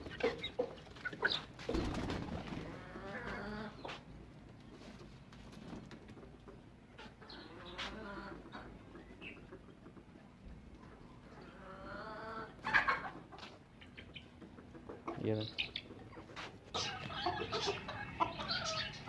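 Chickens clucking while they are fed soaked roti and grain, mixed with other birds in the coop, a steady busy flock sound with occasional louder calls and scraping near the birds.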